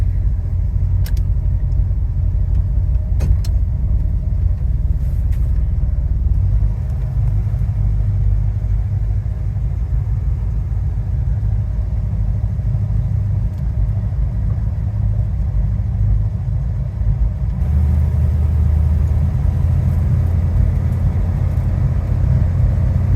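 A deep, steady 440 V8 engine rumble from a 1969 Dodge Charger idles close by, low and throbbing throughout, with a brief rise in intensity near the end.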